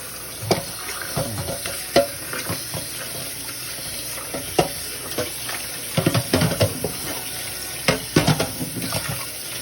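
Dishes being washed in a home sink under a running tap: a steady wash of flowing water punctuated by irregular clinks and clatters of plates and utensils close by, with no talking.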